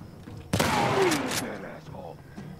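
A single loud shotgun blast in a video game's bridge fight booms and decays over about a second, with faint ambient noise before and after.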